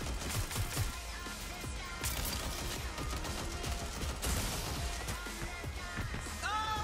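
Turret gunfire in Watch Dogs: Legion: sustained, dense bursts of automatic fire run through the whole stretch, with busy game effects layered over it.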